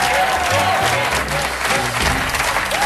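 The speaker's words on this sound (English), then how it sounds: "please give a nice round of applause to your Grand Slam champion 2007" A studio audience at a Grand Slam quiz show applauds loudly for the 2007 champion, dense sustained clapping with music and a voice faintly underneath.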